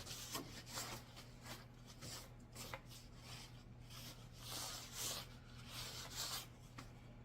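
A cloth wipes leftover plastic off the face of a 110-pound cast iron anvil, making faint, irregular rubbing and scraping strokes that come in short bursts.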